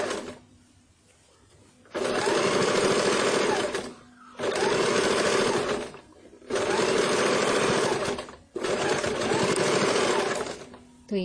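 Domestic sewing machine stitching the cuffs of a baby shirt, running in four steady bursts of about two seconds each with brief quiet pauses between, loud and close.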